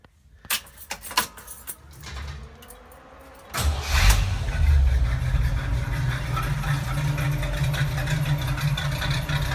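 A 1985 Jeep CJ-7 fitted with a Chevy 350 V8 cranks and fires after some jangling keys and handling noises, then settles into a steady, rumbling idle that carries on loud and close to the end.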